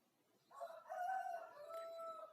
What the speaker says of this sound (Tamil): கோழி இங்கே கூவிட்டே இருக்குது இந்நேரம் பார்த்து